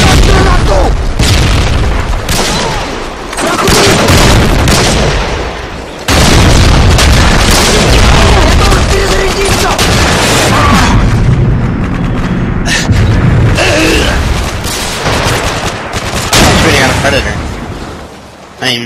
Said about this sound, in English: Бросаю стан-гранату!